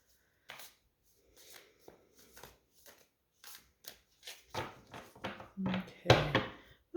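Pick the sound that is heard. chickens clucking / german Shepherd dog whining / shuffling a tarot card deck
shuffling a tarot card deck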